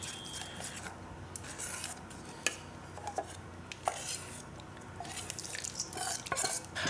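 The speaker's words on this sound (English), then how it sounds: "Mix up the liquids." A spoon stirs liquids with vanilla extract in a bowl for a protein energy bar mix, making close, irregular scraping and clinking with soft wet sloshes, faint and uneven, with no talking.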